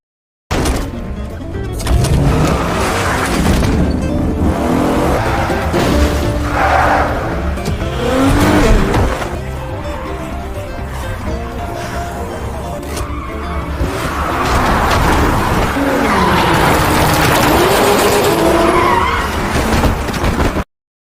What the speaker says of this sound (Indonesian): Dengan skill drifting atau raja ngedrift yang dimiliki oleh Jeonji, mereka bertiga akhirnya berhasil sembunyi di dalam terowongan